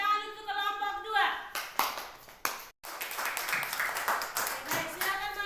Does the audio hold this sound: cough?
no